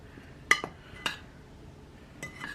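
A metal spoon clinks against a bowl while chicken drumstick breading is mixed, three light, sharp taps spaced apart over a quiet background.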